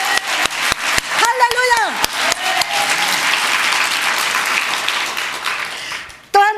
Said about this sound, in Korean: 두 손을 높이 들고 다시 한번 주님께 영광의 박수 올려드립니다